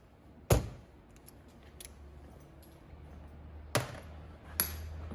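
Metal tools are set down on a workbench during an airless paint pump rebuild, giving three sharp clacks spread over a few quiet seconds, close and faint, with no talk.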